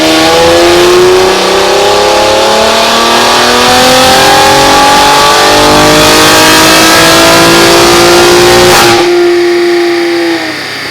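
A BMW X3 M's engine revving hard on a dyno, climbing in pitch through a long sustained pull that stays very loud and close, then dropping off abruptly near the end as the throttle closes.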